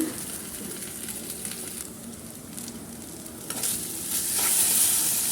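Cooked noodles being stirred in a pan with paneer and baby corn, a steady sizzle and scraping that builds slightly louder toward the end, with no talking.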